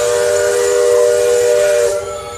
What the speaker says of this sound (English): we're never going to hear this steamboat ever again